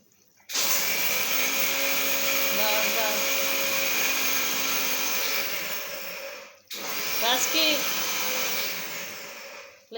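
A kitchen mixer grinder grinding roasted peanuts into a coarse powder makes a loud, steady motor whine. It runs for about six seconds, cuts off briefly, then starts again for a second burst.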